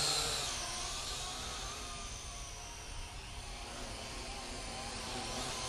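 A Syma X8C quadcopter drone flying without its camera or landing gear gives off a steady buzzing whir that swells slightly at the start and then holds, moderately close, with faint outdoor background.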